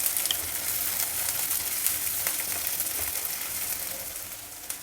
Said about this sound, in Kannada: ಒಂದು ಈರುಳ್ಳಿನ ಸಣ್ಣದಾಗಿ ಕಟ್ ಮಾಡಿ ಹಾಕ್ಕೊಂಡಿದ್ದೀನಿ